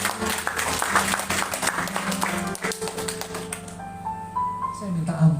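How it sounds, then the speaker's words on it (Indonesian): Congregation applause in a church service, a dense stretch of clapping over a sustained musical backdrop with a speaking voice, the clapping tapering as held keyboard tones take over. "Boleh nggak tepuk tangan Tuhan buat saya?"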